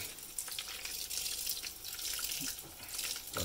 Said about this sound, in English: Now, what I was told, you got to wash the meat.